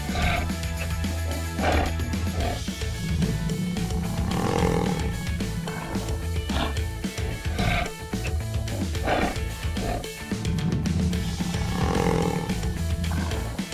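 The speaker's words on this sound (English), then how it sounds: "The tiger too comes out." Toy tiger in a farm animal diorama accompanied by a loud, repeated roaring growl over busy background sound, with several roar bursts across the stretch.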